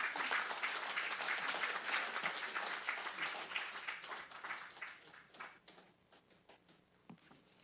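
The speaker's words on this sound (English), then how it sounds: "Round of applause, guys." Audience applause at a county board of supervisors meeting, a steady round of clapping that gradually thins out and fades to a few scattered claps by the end.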